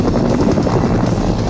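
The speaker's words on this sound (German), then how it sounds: "springt der Ausbrecher plötzlich in einen Hubschrauber, der hinter einem der Tanks schon auf ihn gewartet hat" Helicopter rotor close and loud, a steady churning throb of blades with a low rumbling wash that holds without a break.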